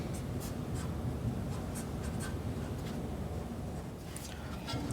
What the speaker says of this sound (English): So what I'm gonna do is I'm gonna write front edge.